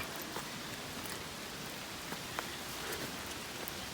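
Rain falls in a forest as a steady, dense hiss, with occasional louder drops striking nearby surfaces. It continues evenly throughout, with no talking.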